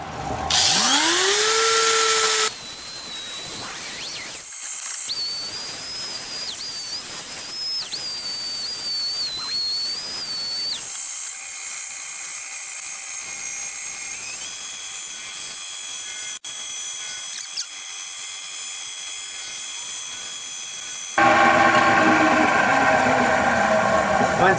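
Steady whirring of a spinning lathe with a high whine as a wooden bowl with bark inclusions is sanded, forward and in reverse, broken into segments with shifts in pitch and loudness; no talking.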